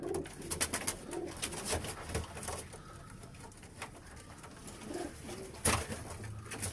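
Pigeons coo repeatedly inside a pigeon house, soft throaty calls recurring over a steady background of rustling and shuffling, with a sharp knock near the end.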